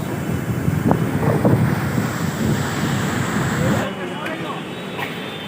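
Water roars through the Mundali barrage as a loud, broad, continuous rushing with wind buffeting the microphone, and the noise thins slightly toward the end.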